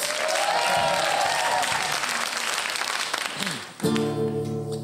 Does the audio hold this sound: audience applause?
yes